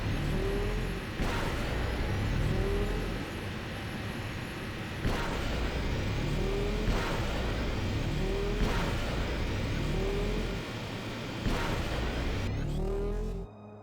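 Swoop bike engines in Star Wars KOTOR II rev up in repeated rising surges, loud and close, each gear climb building then dropping back before another push, ending with an abrupt cutoff.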